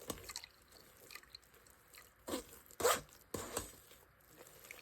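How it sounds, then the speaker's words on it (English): A metal spoon presses and scrapes shredded coconut inside a metal strainer, giving quiet, close, irregular scraping and squishing bursts separated by near silence. "I'm just going to use a metal spoon to press it around and squeeze it down until all of the coconut milk comes out"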